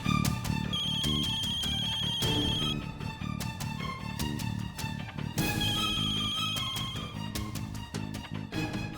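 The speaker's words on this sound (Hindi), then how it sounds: "कमाल है, अब रानू फोन भी नहीं उठा रही।" A phone ringtone plays loudly and continuously, a repeating melodic ring with a steady electronic tone, with no voices over it.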